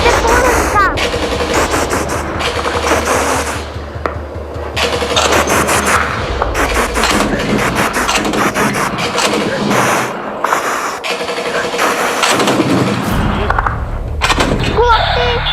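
Police special unit shootout with loud, sustained machine-gun bursts and rapid gunfire, heavy and close, under shouting voices and a running engine.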